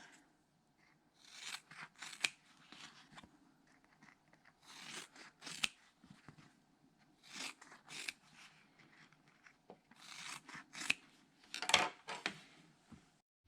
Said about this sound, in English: I'll trim these away 1/4 inch from the seam allowance